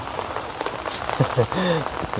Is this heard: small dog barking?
no